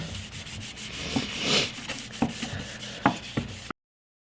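Rough scraping of sandpaper rubbed back and forth over a wooden SKS rifle stock between varnish coats, repeated strokes with occasional knocks, close and fairly loud, no talking.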